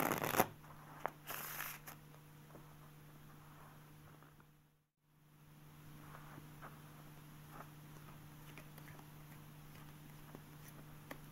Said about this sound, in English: Here's the riffle shuffle with the bridge at full speed.